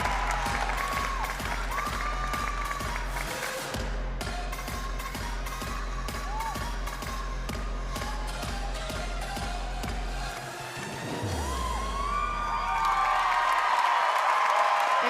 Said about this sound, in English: The crowd's on their feet.